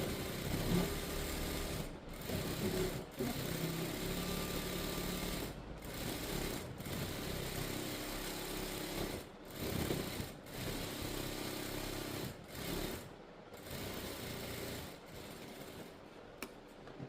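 Sewing machine stitching piping along the edge of a blouse, a loud steady mechanical whir running in repeated bursts with short pauses between them, with no talking.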